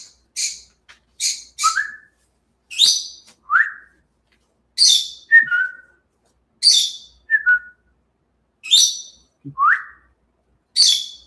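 A pet bird whistles and calls in bright, repeated bursts, roughly a dozen short phrases each ending in a lower slurred note, close and clear with no talking.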